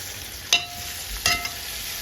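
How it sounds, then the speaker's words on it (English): Chicken back and ackee fry in a pan with a constant soft sizzle, broken by two sharper spatter bursts as the food is stirred. "This is frying nicely."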